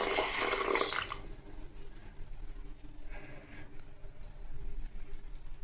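Water is poured over washed lentils in a bowl: a close, loud splashing rush for about a second, then settling into soft, faint trickling and patter.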